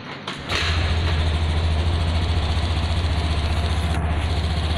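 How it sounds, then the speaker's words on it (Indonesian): A new Honda Scoopy 2021 scooter is kick-started, catches after a brief crank, and settles into a steady, even idle. The engine putters close by and at moderate loudness, with no talk over it. "sekarang kita akan hidupkan saja motornya"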